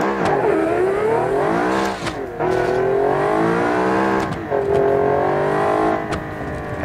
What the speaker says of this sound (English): Next, we have the Voltus Venom Turbo, and I'm betting this thing is gonna wheelie